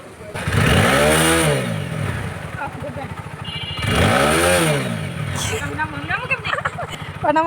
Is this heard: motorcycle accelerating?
yes